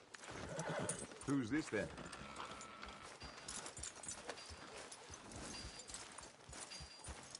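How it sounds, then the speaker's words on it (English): In a video game, a horse whinnies once up close while hooves clip-clop steadily in a walking rhythm, with someone speaking briefly over it. "Are you gonna mount that new horse of yours or not?"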